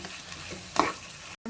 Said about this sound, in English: Stir fry it for a minute.